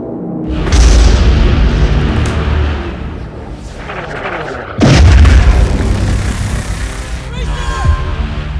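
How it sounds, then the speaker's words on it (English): A single six-pounder gun without a carriage is fired at a fortified pa during a colonial-era siege, giving loud booming blasts, one near the start and another midway, each followed by a long rumbling decay. "A single 6-pounder gun is hauled up to the colonial forces location and fired into the pa."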